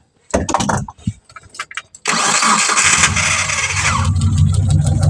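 A Triumph T120SS motorcycle engine with a fuel injection fault is restarted: a few uneven starter cranks, then it catches and runs loudly and steadily at close range.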